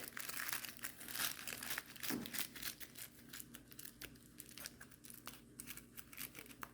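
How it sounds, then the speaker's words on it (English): Aluminum foil is folded in half and shaped by hand, giving a continuous close, crisp crinkling and crackling with irregular sharp bursts throughout. "Just taking the aluminum foil square, folding it in half, and then just kind of folding it like this, and then shaping it accordingly."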